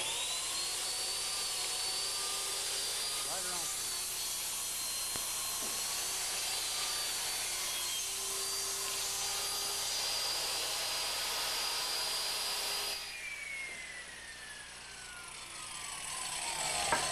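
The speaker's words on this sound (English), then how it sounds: "When I turn the saw on, you can feed the material through, and we'll take a nice 2-inch piece off." A saw cuts a 2-inch piece off a 48-inch length of wood in a home-improvement setting: a loud, steady whining motor roar with cutting noise runs for about thirteen seconds, then drops away as the blade spins down.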